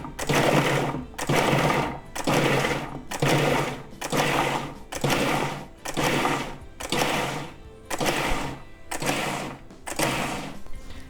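A food processor pulses a raw vegan veggie burger mix in an even run of about a dozen short, loud bursts, each separated by a brief gap.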